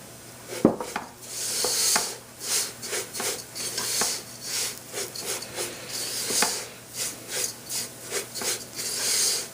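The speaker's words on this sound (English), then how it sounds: "We're gonna go ahead and put our coconut in there." Coconut being stirred in a pan for vermicelli bars, a steady rhythmic scraping and rubbing of a utensil against the pan, close and fairly quiet with a few sharper knocks.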